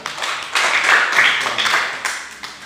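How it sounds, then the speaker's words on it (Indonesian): Short burst of applause from students in a classroom, a group clapping close by, swelling and then tapering off over a couple of seconds with a few scattered final claps. "Bagus, berikan aplaus buat"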